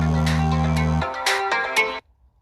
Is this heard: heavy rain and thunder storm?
no